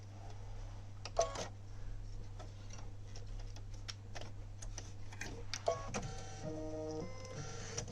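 An embroidery machine stitches a retreat badge, giving a steady low motor hum under rapid ticking and tapping, with a few sharper clicks.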